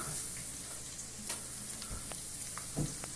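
Onion rings fry in oil with a quiet, continuous sizzle close by, broken by a few small pops and light clicks.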